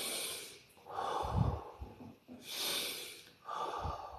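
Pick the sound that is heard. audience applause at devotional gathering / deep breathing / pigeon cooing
deep breathing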